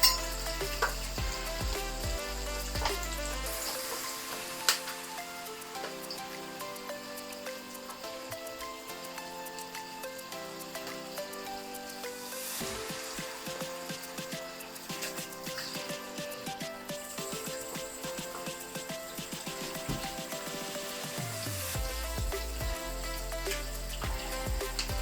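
Salmon fries in hot oil in a pan, giving a continuous loud crackling sizzle for the whole stretch, with occasional faint clinks and a soft tonal hum underneath.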